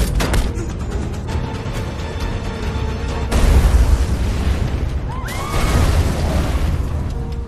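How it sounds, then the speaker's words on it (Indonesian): A loud, booming car bomb explosion in an action film bursts out amid dense film-style noise, followed by rumbling debris and a second surge of blast energy. "Akhirnya bom pun meledak menghancurkan mobil"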